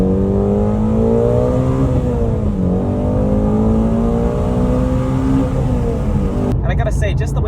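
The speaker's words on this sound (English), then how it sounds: "I'm going to give you all one pull with the factory exhaust." A Ford Shelby GT350 V8 with factory exhaust revs steadily upward through one long pull, exhaust note rising in pitch for several seconds before cutting off abruptly near the end.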